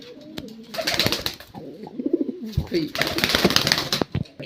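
Pigeons in a pigeon loft, with low throaty cooing in bursts and brief flurries of wing flapping close by, mixed with some nearby voice sounds.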